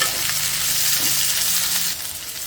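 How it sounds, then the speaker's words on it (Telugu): Okra pieces stir-fried in a pan over medium-high heat crackle with a steady, dense sizzle, with soft stirring scrapes throughout and a slight drop in loudness near the end. "ఇప్పుడు మీడియం ఫ్లేమ్కి హై ఫ్లేమ్కి అడ్జస్ట్ చేసుకుంటూ ఈ బెండకాయ ముక్కల్ని కలుపుకుంటూ ఫ్రై చేసేసుకోవాలి"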